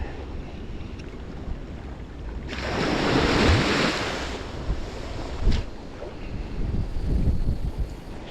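Strong gusting wind roars across the microphone by the sea, swelling loudly in the middle, with surf rumbling underneath.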